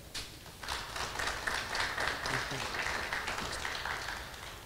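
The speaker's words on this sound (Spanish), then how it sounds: "Fuertes aplausos para ella." Applause at the closing ceremony of an inter-university online chess championship in Puno, a steady crowd of hands clapping that starts suddenly and holds at a moderate level, fading slightly toward the end.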